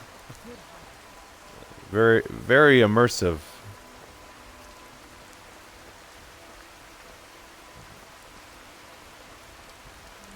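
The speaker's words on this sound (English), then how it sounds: "and then now it's just raining" Steady rain falls in Skyrim, modded with True Storms, a constant soft hiss of drops throughout; someone speaks briefly over it near the start.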